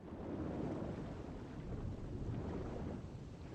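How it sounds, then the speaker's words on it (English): Underwater swimming in the Darksiders III video game, a steady, loud wash of churning water with a low rumbling bed, continuous and without speech. "I'm swimming now."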